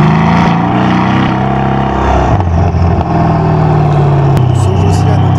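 A Mercedes-Benz S63 AMG coupé is driven in manual mode with the microphone at the rear, its engine roaring loud and close, pitch rising and dropping through revs with a deep, continuous burble.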